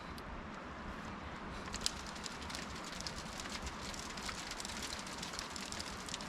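Sleet coming down outside a truck camp during a winter weather advisory, a faint, steady crackling patter on surfaces with no break and no voices.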